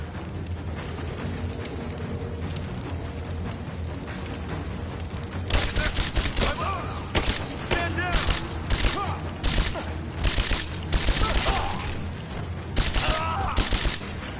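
Short bursts of automatic gunfire in Rise of the Tomb Raider, with repeated rapid cracks that come in clusters over a steady background of game ambience.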